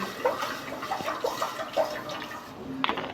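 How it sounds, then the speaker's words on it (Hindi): Water poured from a vessel into a cooking pot set on the stove for chana dal, a few short splashing pours and trickles, close and fairly soft, with no talk. "तो इसमें डाल देंगे थोड़ा सा पानी।"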